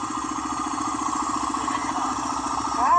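A Honda Big Red three-wheeler engine runs steadily at close range, a continuous mid-pitched idle with rhythmic pulsing that swells slightly louder at the end, with no speech over it.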